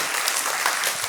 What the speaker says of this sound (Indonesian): Berikan tepuk tangan paling meriah bagi Yesus Tuhan.